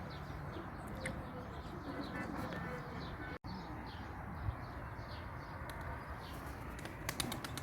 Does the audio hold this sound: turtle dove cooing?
yes